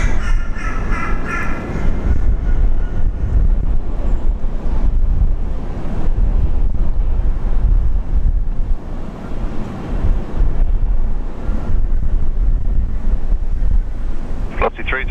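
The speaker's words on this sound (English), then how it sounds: "That wind just keeps picking up every time they report it." Strong, steady wind roars across an exposed microphone during a severe storm at Brisbane International Airport, a continuous loud broadband rush with gusty swells and no pauses.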